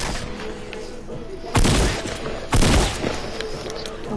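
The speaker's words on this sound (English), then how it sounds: "there's just four gunfights going down here" Gunfire rings out during gunfights in the Fortnite video game: two sharp, loud bursts about a second apart stand out over a steady, busy background rumble.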